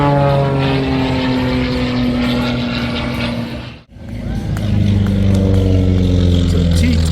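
A T-28 World War II trainer propeller plane at an airshow drones loudly and steadily, with a sharp, brief drop in sound midway as it passes, then roars back up.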